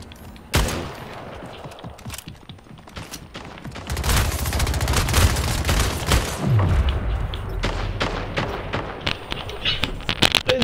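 Rapid SMG bursts in the shooter game Splitgate crackle in dense, overlapping volleys with booming impacts, growing louder and busier from midway through, with a voice speaking briefly underneath.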